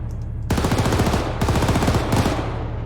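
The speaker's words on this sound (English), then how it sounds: "And also firing with the main gun." Rapid automatic fire from a vehicle's main gun in Arma 3, loud close bursts of dense repeated shots with brief gaps between strings, alone with no talking.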